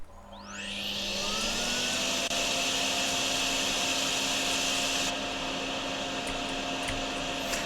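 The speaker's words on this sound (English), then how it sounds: "I need this thing, the vacuum." A vacuum tool in the video game DrainSim winds up with a rising whine and then runs as a loud, steady roar for several seconds. It plays on its own, with no talking.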